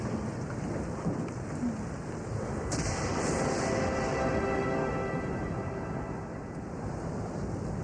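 Heavy rain pours steadily throughout, with a rolling rumble of thunder building partway in and lingering as the storm continues.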